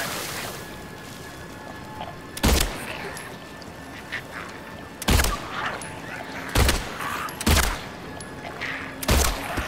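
Sharp gunshots in Silent Hill 2 Remake ring out one at a time at irregular intervals over a low background hum, with quiet stretches between them.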